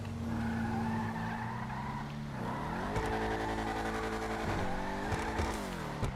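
Chevrolet Camaro driven hard in GTA 5, tires squealing in long wavering tones over a revving engine, loud and close, with pitch sweeps as the car slides and accelerates.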